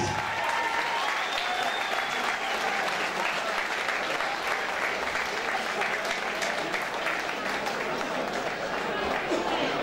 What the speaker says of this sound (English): I want another round of applause for the two warriors in the ring, please.